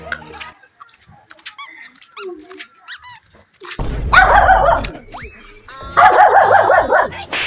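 A dog whimpers and squeaks in high, wavering cries, growing louder and more insistent, with some background noise in the second half.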